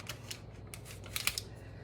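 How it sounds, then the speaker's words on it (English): Knife or cutter slicing through a chicken egg roll pizza, a quiet series of soft crisp crunching cuts with a few sharper scrapes near the end. "we are gonna cut this pizza up and garnish it and serve it"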